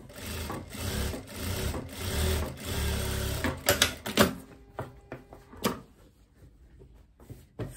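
A sewing machine topstitches a seam on wide-leg pants: a steady run of rapid mechanical stitching that slows into a few separate clunks and taps near the end before falling quiet.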